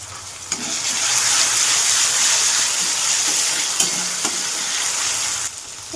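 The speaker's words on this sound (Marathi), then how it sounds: "छान परतून घेणार आपण, फ्राय करणार याला." Drumstick pods frying in a pan with soft tomato, cumin and spice powders, a steady loud sizzle with occasional stirring knocks.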